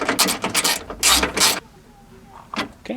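Ratchet clicks ring out while bolts are tightened on a Ford Escape window regulator, in quick close bursts of mechanical clatter followed by a quieter pause and a few more clicks.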